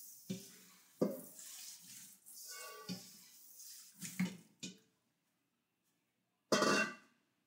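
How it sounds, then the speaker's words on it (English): Tap water splashes into a bowl in short intermittent bursts as food is rinsed, with irregular gushes and clatters, a quiet pause, then one final louder rush of running water. "now we need to put that shit in the bowl and wash it up"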